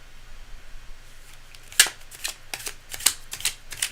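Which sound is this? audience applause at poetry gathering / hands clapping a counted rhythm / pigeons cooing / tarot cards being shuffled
tarot cards being shuffled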